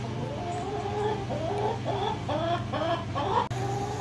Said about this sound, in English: So obviously come to see the hens this morning.